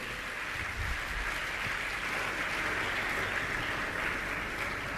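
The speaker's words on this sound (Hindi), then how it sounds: "ऐसी सुशीला जी पाटनी की जोरदार ताली बजाकर सम्मान करें।" An audience at a Hindi religious gathering gives a round of applause, a steady even clatter of many hands clapping, fairly distant and continuous with no talk.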